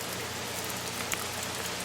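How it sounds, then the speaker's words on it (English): Steady rain from Hurricane Florence falls as a dense, even wash of broadband hiss with scattered drop ticks, heard near and continuous with no talking. "And a little more rain."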